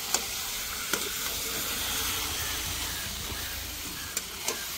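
Mutton fries in oil and masala with a loud, continuous sizzle and hiss, broken by a few faint clicks of stirring.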